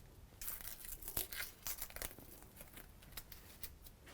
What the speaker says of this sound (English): Let's just remove the masking tape.